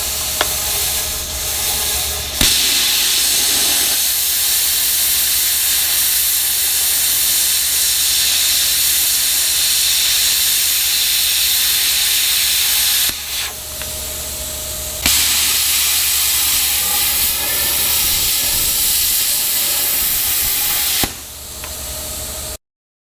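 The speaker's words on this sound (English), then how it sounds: "I'm going to try to gouge the welds out with the plasma cutter" Plasma cutter gouging welds out of thick-wall square steel tube, a loud constant roaring hiss over a low hum that runs in long passes, with two brief breaks and a click between them.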